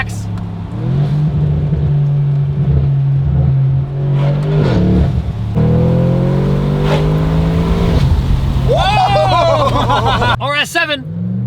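Audi RS7 fitted with a Valvetronic Designs exhaust and Unitronic sport cat downpipe revs loudly and close, engine tone climbing and falling across several blips, with voices talking over it throughout.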